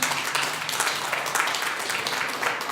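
A church congregation claps in sustained applause, a dense, even wash of many hands from start to finish with no distinct voices on top.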